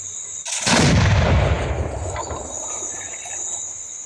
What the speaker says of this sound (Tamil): பட்டாசு கீழே வெடிச்சிச்சு